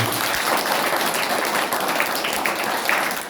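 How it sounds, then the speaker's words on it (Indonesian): A church congregation claps and applauds during an Indonesian worship service, producing steady, dense clapping throughout, loud and close. "Tepuk tangannya untuk Tuhan kita."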